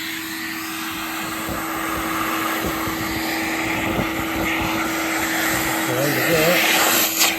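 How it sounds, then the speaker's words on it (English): Hoover vacuum cleaner sucking debris out of farm machinery, a steady close whine and rushing airflow with rattles as bits get pulled in; someone speaks briefly over it. "Let's get the Hoover on the go and suck some of this crap out of here."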